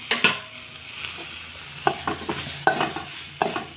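Tomatoes fry in a pan with a soft continuous sizzle, broken by several sharp scrapes and knocks as a utensil stirs them every second or so. No talk.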